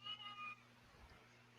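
A cat meows once, briefly and faintly, with a soft tonal cry at the start before the sound drops to near silence.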